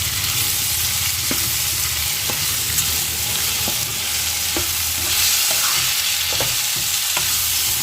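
Chopped tomato frying in a pan for aloo palak, with a loud, continuous sizzle and a spoon scraping the pan in regular strokes about once a second.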